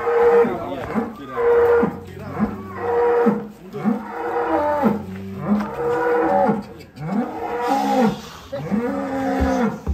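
Sacrificial cattle being loaded onto a truck moo repeatedly, loud and close, with long drawn-out lowing calls overlapping one after another.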